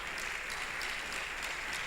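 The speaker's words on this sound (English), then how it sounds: "Please a round of applause for him." An audience at a Nigerian academic gathering claps in a steady, even round of applause, dense and continuous with no voices standing out.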